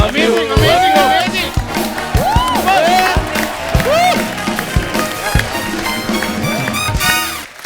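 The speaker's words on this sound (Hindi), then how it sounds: "एक बार जोरदार तालियां हो जाए" Studio audience on a TV comedy show breaking into loud applause and cheering, a dense sustained roar of clapping and voices with whoops over it.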